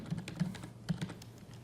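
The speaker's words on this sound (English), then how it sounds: "all I have to do is type in the name of a server" Typing a server name on a computer keyboard; a few quick soft keystrokes, close and quiet, no talk.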